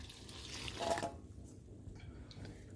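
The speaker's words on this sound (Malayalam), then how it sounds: "ഇനി നമുക്കതിൽ സാധാരണ വെള്ളം ഒഴിച്ചു കൊടുക്കാം." Plain water is poured into homemade maida flour in a kitchen bowl, a brief faint splash and trickle lasting about a second before fading to quiet room tone.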